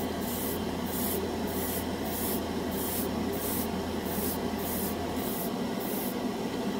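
An airbrush sprays a coat of cheap acrylic chrome paint in a steady, loud hiss, with about ten rhythmic pulses in the high hiss as it sweeps back and forth; a low hum under it cuts out near the end.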